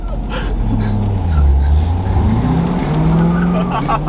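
A car doing a burnout spins its tires through a full circle, loud engine roar with rising and falling revs over a continuous tire squeal and skid.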